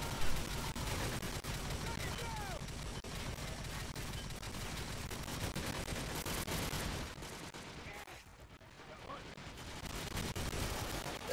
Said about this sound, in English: just various lines of infantry shooting through each other.